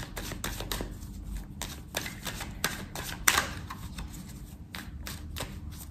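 A deck of oracle cards is cut and riffled by hand, a quick run of crisp papery flicks and taps, close up with one sharper snap midway.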